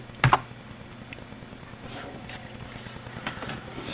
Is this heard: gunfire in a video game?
no